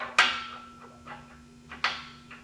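Two sharp metallic knocks a second and a half apart on a welding manipulator head as its socket head cap screws are popped loose, each followed by fainter clanks, over a steady low electrical hum.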